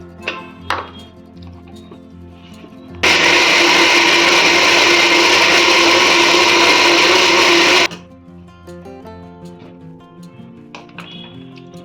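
Mixer grinder blending chana dosa batter smooth, a loud continuous whir lasting about five seconds that starts and stops abruptly, with faint kitchen clatter before and after.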